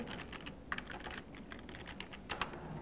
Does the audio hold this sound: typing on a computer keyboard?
yes